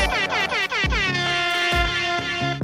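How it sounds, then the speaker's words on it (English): A loud air horn sound effect blares in several long honking blasts with a stepped, sliding pitch, near and dominant throughout. "The air horn guy is back."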